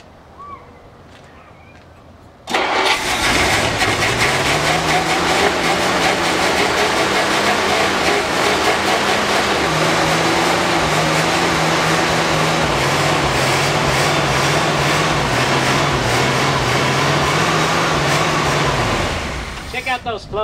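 Classic Ford Thunderbird engine in Salt Lake City firing up after about two seconds of quiet, then running loud and steady with a rough idle for some eighteen seconds before cutting off.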